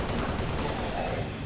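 Gunshots in a shooter video game, a dense, loud stream of rapid-fire shots throughout, with a voice faintly mixed in underneath.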